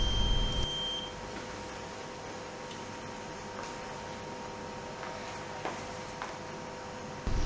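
Reconditioned smoke detector head sounding its alarm during a test: a brief electronic beeping tone over a steady, faint mechanical hum and a soft room hiss.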